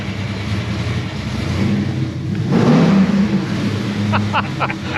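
A 1972 Ford Falcon XY GT engine revs up nearby, a low throaty rumble swelling to a loud peak and settling back, with voices talking over it.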